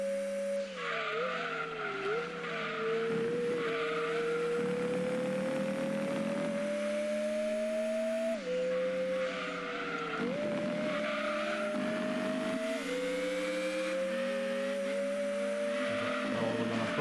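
A Mazda Demio A-Spec race car engine in the Gran Turismo 2 video game drones steadily at high revs through a race, its pitch climbing and dropping sharply at each gear shift, with occasional tire squeal.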